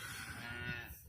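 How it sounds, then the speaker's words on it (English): Cows with calves mooing in a farm field, a continuous low bellow sustained across the whole moment, fairly close and clear with no talk. "cows and calves."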